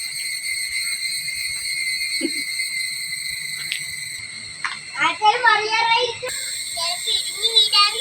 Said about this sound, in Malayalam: ചീവീട് വരെ സൗണ്ട്.